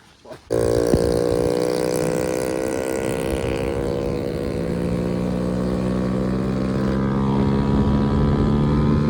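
A moped's small engine kicks to life and settles into a loud, steady, buzzing idle that runs on without pause, close by.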